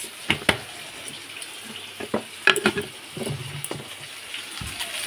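Food stirred in a frying pan with sugar and salt added, producing a few sharp metallic scrapes and clinks over a soft, faint background sizzle, close by and without talk.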